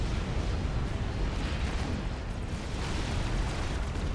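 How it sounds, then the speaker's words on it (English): In Supreme Commander: Forged Alliance, a dense barrage of T3 artillery shells explodes without letup, a steady, loud roar of overlapping blasts with no speech. "That's a lot of T3 artillery shells."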